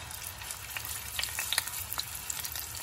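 Turkey cutlets frying in sunflower oil in a hot pan give a steady soft sizzle, with scattered sharper pops and crackles rising above it, fairly quiet and close, with no voices.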